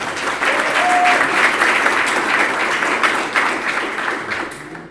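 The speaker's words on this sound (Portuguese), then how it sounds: "uma nova salva de palmas para os patrocinadores" An audience at a talks event gives loud, sustained applause for the sponsors, a full wash of many hands clapping at once that fades slightly at the end.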